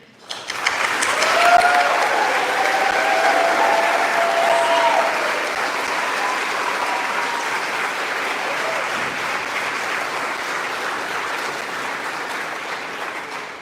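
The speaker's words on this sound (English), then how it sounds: "Please join me in applauding our" A large crowd at a high school commencement claps steadily for several seconds, the applause swelling at first and then holding at an even level before tapering slightly.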